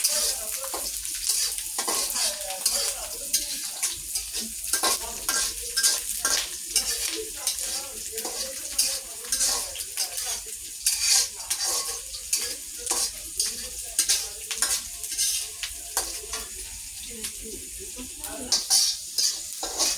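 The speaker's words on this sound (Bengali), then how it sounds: "মরিচ একদম লাল টুকটুকা হয়ে গেছে ভাজা হচ্ছে" Red chillies fry and are stirred in a pan while making chalta pickle, a continuous sizzle punctuated by frequent rhythmic scraping and clinking of the spoon against the pan, moderately quiet throughout.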